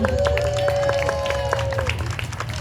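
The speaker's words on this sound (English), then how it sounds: "You can clap, sure." An audience at a children's storytime event claps after a story ends, a brisk scattering of hands over a low hum and a sustained tone, moderately loud and fading slightly toward the end.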